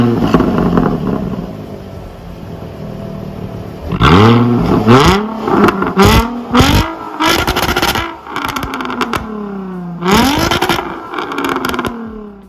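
A Jaguar F-Type V6 S engine revs close by in a series of sharp blips, rising to loud snarling peaks and dropping back to a burbling idle between them.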